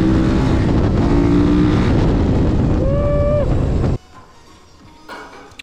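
Loud, close engine roar from a KTM 1190 RC8 engine swapped into a Yamaha Raptor quad, revving hard with a rising pitch sweep near the middle, then cutting abruptly to quiet wind and faint rumble.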